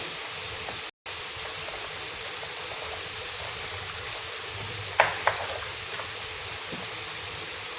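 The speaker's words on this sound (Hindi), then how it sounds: "अब देखिए, पानी उबलने लगा है" A steady close-up hiss of water boiling in a pot for kadhi, broken by a brief dropout and a couple of faint clinks.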